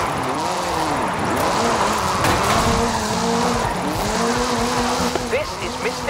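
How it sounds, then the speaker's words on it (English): A 2-litre turbocharged all-wheel-drive Ford Focus RS RX drifts in Forza Horizon 5, its engine revving up and down through repeated gear changes with tire squeal, while a voice speaks over it. "This is Mr. Kenneth Locke's Hooligan Gymkhana 10 Ford Focus RS RX. 2-litre, turbocharged, front-mounted engine and all-wheel drive"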